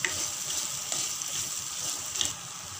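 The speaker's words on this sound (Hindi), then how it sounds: "अब इन मसालों को हम इसमें भूनेंगे 1 मिनट तक" Coriander, red chilli and turmeric powders fry in a pan for a palak paneer base, giving a continuous bright sizzle with a few stirring scrapes, close and steady throughout.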